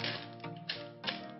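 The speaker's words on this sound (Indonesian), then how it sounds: "Nah, sekarang kita buka dulu botol elektrolitnya dari plastik." A plastic electrolyte bottle for a Yuasa YTZ6V motorcycle battery is opened, giving a few crisp crinkling, crackling plastic snaps and taps close to the microphone, with no talk.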